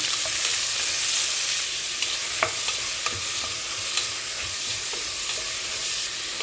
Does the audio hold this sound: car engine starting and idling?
no